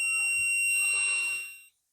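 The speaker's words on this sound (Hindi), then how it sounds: "देख सकते हो बीप की आवाज आ रही है, यानी कंटिन्यूटी बिल्कुल मिल रही है।" A multimeter's continuity buzzer sounds while testing an LED bulb: one steady high-pitched beep lasting under two seconds, then cutting off.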